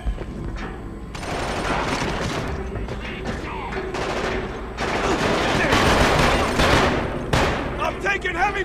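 Heavy, sustained gunfire in the first-person shooter Killzone 2, with dense overlapping automatic bursts and impacts rolling on loudly for several seconds, close and relentless, with voices and battle noise mixed in.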